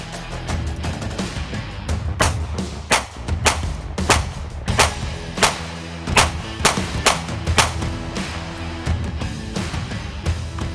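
Repeated gunshots strike BulletSafe soft body armor during a test, sharp cracks spaced about half a second to a second apart in a steady run over a continuous background rumble.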